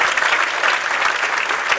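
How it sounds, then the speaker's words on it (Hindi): Dense, loud applause from a crowd at a live charity concert, a continuous wash of clapping with no pauses. "जितने गाने जो उन्होंने गाए उतने मिनट तो कम से कम तालियां बजनी चाहिए है"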